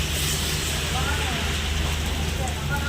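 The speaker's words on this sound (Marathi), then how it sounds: "भरपूर पाऊस आहे" Heavy rain pours steadily and close by, a dense continuous hiss with a low hum beneath it from a house running on an inverter during a power cut.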